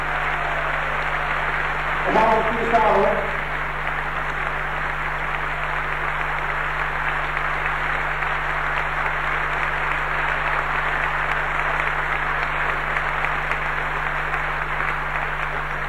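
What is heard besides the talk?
audience applause for the orchestra members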